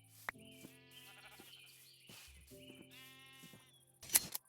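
Sheep in the video game Minecraft bleat a few times, short wavering cries over a quiet bed of sustained in-game tones, with a sharper burst of noise near the end.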